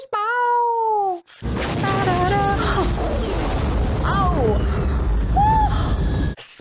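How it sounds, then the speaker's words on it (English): A loud, rumbling explosion from the film Spaceballs roars for several seconds, with wailing and cat-like cries over the din, cutting off abruptly at the end. "Explosion."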